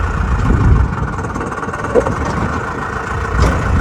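A Case 730 tractor idles in a hayfield at haymaking time, its engine giving a steady, close, low rumble with small surges in level and no talk over it.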